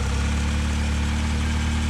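A 1991 Honda Prelude Si engine idles steadily with belt and accessory noise, a continuous even hum and whir close by, with no voices.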